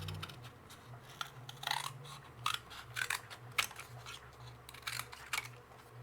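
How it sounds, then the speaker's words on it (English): Scissors cut out a dried handmade tassel doll with quiet, intermittent snips and crisp clicks, spaced irregularly over a soft background with no talking. "now we're going to cut this out because it's dry"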